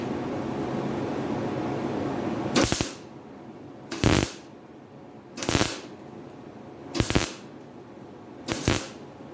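Tack welds on a Triumph Spitfire A pillar: five short, sharp crackling bursts of welding spaced roughly every one and a half seconds, close and loud, over a quieter background hiss.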